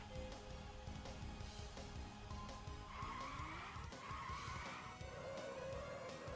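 Racing cars in a Nintendo Switch racing game skid with continuous loud tire squeal over a steady roaring engine drone, sustained throughout without a break.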